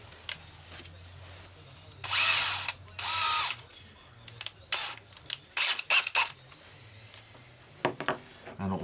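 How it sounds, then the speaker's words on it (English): A drill bores into a cracked high-speed needle housing on a Walbro SDC-1 carburetor from an XL-101 chainsaw, heard as several short, loud grinding bursts of uneven length separated by pauses, close up with no talking. "because you have to run a drill into here, you want to be damned careful"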